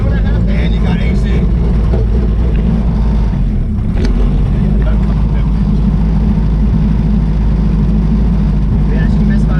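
A hatchback with a B20 engine drives with a heavy, continuous low engine drone inside the cabin, rough and uneven from misfiring, while people talk over it.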